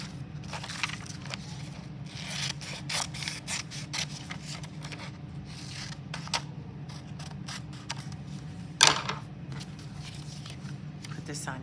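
Scissors cutting a rectangle out of a Mexican nicho box, making a series of short snipping and crunching cuts at an uneven pace with one sharper crunch near the end, while someone talks over it.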